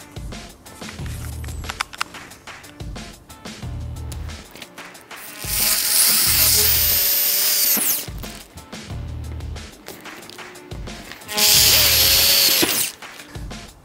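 A power drill bores pilot holes through the sheet metal body of a Honda Civic sedan to mount a trunk spoiler. The close, loud whine comes in repeated bursts, with two long sustained runs between shorter pulses and mechanical clatter.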